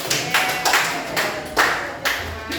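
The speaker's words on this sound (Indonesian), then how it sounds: "Tepuk tangan untuk" A school class claps hands in a handful of loose bursts, four or five uneven waves of clapping in a room, each fading quickly before the next.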